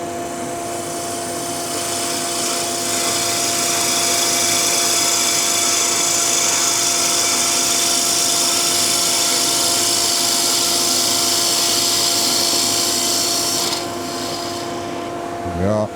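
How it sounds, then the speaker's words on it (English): Steady close rasping hiss of a gouge push cutting a spinning wooden skittle on a wood lathe, with a constant motor hum beneath, continuous for most of the stretch before easing off near the end. "Then you can start push cutting with the bevel rubbing."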